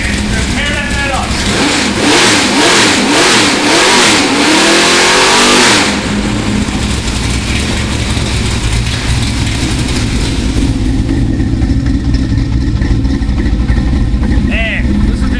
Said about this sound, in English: Let's show you the throttle response. Nice motor.